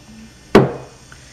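A single sharp snip as the ends of copper wire on a handmade rosette ring are cut, close and crisp, with a quick decay and quiet surroundings.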